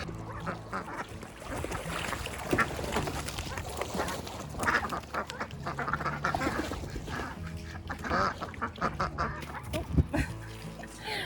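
Ducks on a small homestead quack repeatedly for several seconds, with overlapping calls rising and falling over a busy outdoor background at moderate volume.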